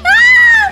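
A child lets out a short, high-pitched scream after cutting a finger, a single loud sustained wail lasting under a second, close and clear with nothing else over it.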